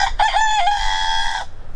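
A rooster gives one loud, close crow lasting over a second, steady and harmonic after a brief clucking start, then stops abruptly, with no talk over it.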